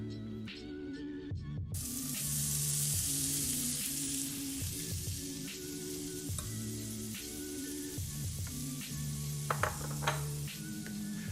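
Onions sautéing in a splash of olive oil in a pan during a shrimp fra diavolo cooking class, a soft steady sizzle with low hum and occasional clinks of utensils against the pan, fairly quiet and without talk.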